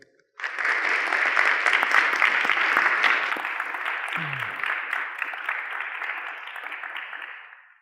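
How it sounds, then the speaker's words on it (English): An audience in a college hall breaks into sustained applause to welcome a speaker, a dense and steady clapping that lasts several seconds before slowly tapering off to silence. "After you give the appropriate applause for Dr. Murray, I'll turn the time over to Dr. Olasky."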